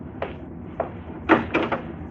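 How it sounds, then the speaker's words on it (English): Door opening as a radio drama sound effect in a 1950s science fiction broadcast, heard as a few short knocks and clunks, then a louder latch-and-creak cluster near the end, with low background hum. "Open the door."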